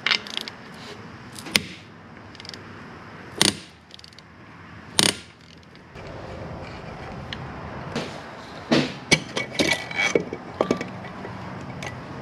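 Ratchet wrench clicking and turning the 14mm cylinder head nuts on a Honda XR650R engine during a top-end teardown, with sharp metallic clicks and clunks in short bursts separated by quieter handling noise, close up.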